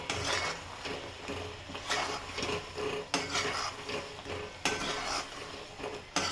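Manchurian balls stir-fried in a pan over a high flame, with continuous sizzling and frying plus repeated scraping and clanking of a spoon against the pan, close up and without talk.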